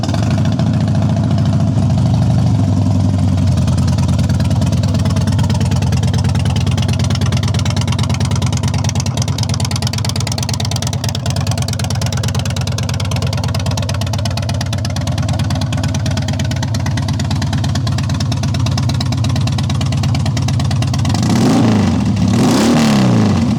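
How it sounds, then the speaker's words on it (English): Harley-Davidson Heritage Softail Classic FLSTC V-twin with loud aftermarket-sounding pipes, close and loud: a lumpy idle that stays steady for a long stretch, then a few sharp revs near the end. "I'll fire it up and let you listen to it."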